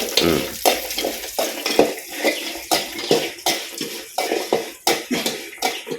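A lump of asafoetida fries in hot oil in a pan, with a steady crackling sizzle and bubbling, close and loud, broken by irregular popping spurts throughout.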